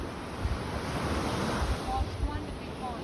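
Sea surf washing onto a beach near Krabi, Thailand, in the evening: a steady, continuous rush of breaking waves mixed with gusty wind noise across the microphone.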